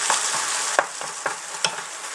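Minced beef and onions sizzle steadily in a pan, broken by several sharp scraping stirs of a utensil across the metal, close and clear with no talk.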